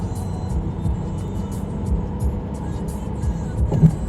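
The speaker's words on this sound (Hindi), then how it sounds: "हम थोड़ा सा गाड़ी की स्पीड को बढ़ा रहे हैं इस टाइम पे, क्योंकि रोड खाली है" A car speeds up on an empty early-morning road near Gurgaon on the way to Jaipur, heard from inside as a steady engine drone and road rumble that swells slightly toward the end.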